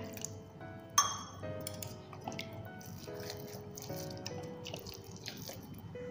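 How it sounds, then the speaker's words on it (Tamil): Water poured into rava idli batter and stirred by hand in a kitchen: a sharp clink near the start, then soft dripping, squishing and light scraping, fairly quiet and close. "நான் இன்றைக்கி 1/2 கப் அளவுக்கு தண்ணி ஆட் பண்ணுறேன்."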